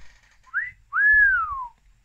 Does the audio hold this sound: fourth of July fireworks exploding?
no